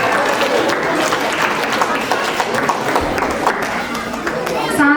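A crowd at a school annual function of St. Anna English Medium School in Birnibera, Ambikapur, gives loud, sustained applause for five seconds. Thick, continuous clapping carries crowd voices and chatter underneath.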